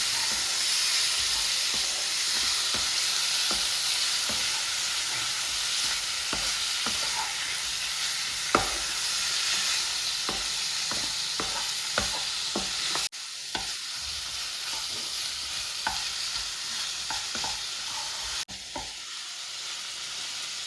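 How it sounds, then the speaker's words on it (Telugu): Ginger chicken is stirred in a pan on a low flame: a steady hiss of frying runs throughout while a spoon scrapes and clicks at a regular rhythm, close up and without voices. "మంచిగా సిమ్లో పెట్టుకొని మంచిగా కలుపుకుంటున్నాను ఇప్పుడు"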